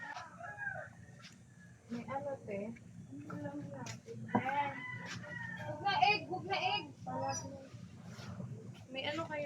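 Chickens cluck and crow repeatedly nearby, loud bursts of fowl calls mixed with people talking in the background.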